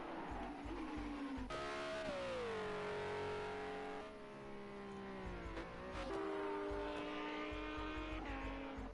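A Lamborghini race car in a GT racing video game, on a Scottish Grand Prix track, roars steadily across the line. Its engine note climbs and drops through gear shifts, loud and continuous, with a brief dip midway.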